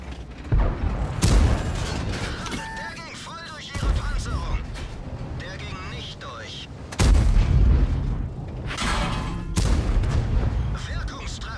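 Several loud, booming tank cannon shots in World of Tanks ring out at irregular intervals, each with a deep rumbling tail, while a voice talks intermittently underneath.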